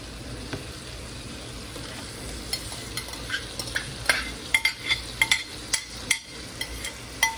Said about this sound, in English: Now we're gonna add the shrimps back into the pan.